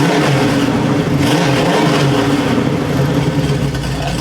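A Pontiac 455 V8 revs hard and loud up close, a steady throaty roar holding high through the whole stretch with slight dips in pitch near the end, no voices over it.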